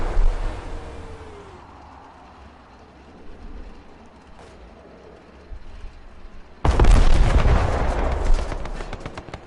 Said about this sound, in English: We have enough enemies around me to call this much artillery in.